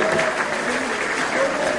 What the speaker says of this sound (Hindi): जिनके हाथ हो ताली बजा दो